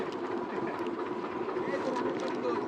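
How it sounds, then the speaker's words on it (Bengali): The engine of a small trawler on a river, the Kholpetua or Kapotaksha, drones in a steady, continuous rumble with water noise, while voices talk faintly underneath. "আমাদের ছোট্ট ট্রলারটি ছেড়েছে চকবাড়া থেকে"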